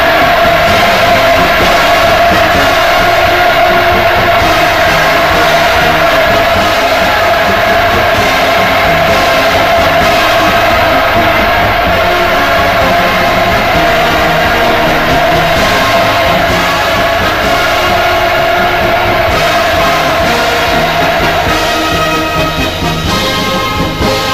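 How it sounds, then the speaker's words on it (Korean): A large crowd roars and cheers continuously at a loud, steady level for North Korea's leader during Putin's 2000 state visit, the massed voices swelling without pause throughout. "폭풍 같은 환호를 돋쳤습니다"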